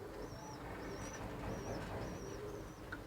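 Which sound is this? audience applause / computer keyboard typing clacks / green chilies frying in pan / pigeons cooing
pigeons cooing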